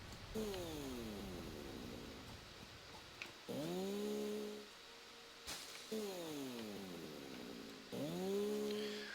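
Chainsaw cutting tree trunks in the Satisfactory game: repeated revving buzzes rising and falling in pitch, two bursts then a pause, then two more, under a faint background.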